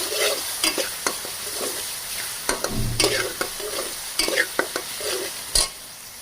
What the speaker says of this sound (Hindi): तो अच्छे से मिक्स करेंगे।